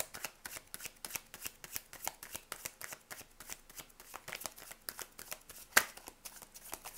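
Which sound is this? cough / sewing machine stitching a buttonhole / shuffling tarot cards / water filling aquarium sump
shuffling tarot cards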